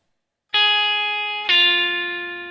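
Two bright, distorted electric blues guitar notes ring out one after another, the second a pull-off on a string, each with a sharp attack and a long sustained decay, loud and alone.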